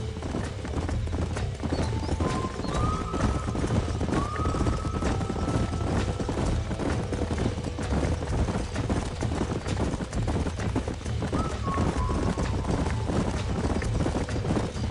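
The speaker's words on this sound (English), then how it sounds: "These are fine horses." Horses in a Western video game gallop with a dense, continuous clatter of hooves, close and steady, and drawn-out whinnies rise over it a few times.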